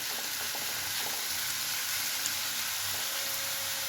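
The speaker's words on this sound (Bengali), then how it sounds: "এইভাবে এবার আলুটা যখন একটু ভাজা ভাজা হয়ে যাবে" Potatoes fry in a little oil in a pan, a continuous close sizzle with occasional light stirring sounds and no talking.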